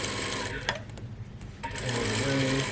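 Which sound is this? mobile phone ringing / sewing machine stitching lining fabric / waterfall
sewing machine stitching lining fabric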